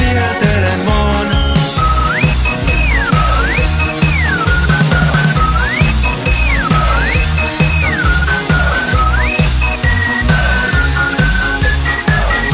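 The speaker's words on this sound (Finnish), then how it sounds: "Mä viheltelen vaan." A whistled melody with rising and falling glides weaves through a Finnish pop song, repeating in phrases over steady, loud full-band backing throughout.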